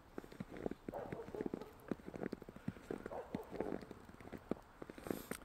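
Footsteps crunch rhythmically through fresh snow on a night walk, each step a close, squeaky compressing crunch in a steady walking pace.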